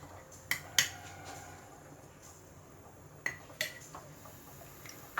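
A spoon stirs buttermilk cucumber curry in a pot, producing a few sharp metallic clinks and taps against the rim over a quiet background, no voices.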